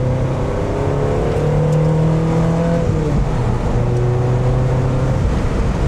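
A 2.5L-swapped Mazda NC Miata with a six-speed gearbox runs hard on track at Grattan Raceway, a loud, close engine drone shifting pitch under load with crackling exhaust pops mixed through the roar.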